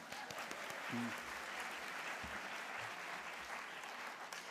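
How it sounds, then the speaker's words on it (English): Audience applause in an auditorium at a debate event, a broad wash of many hands clapping, steady and fairly distant, with a faint low voice briefly underneath. "yes, you can applaud for him."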